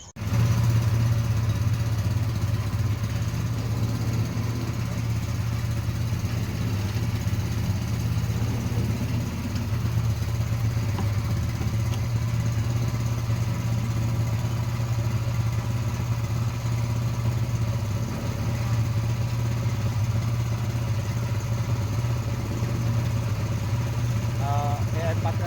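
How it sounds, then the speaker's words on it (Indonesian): Chopper mixer machine grinding feed for laying KUB hens, a loud steady motor drone with constant low hum and clatter running throughout without pause. "Nah ini mesin mixer kita akan kita giling"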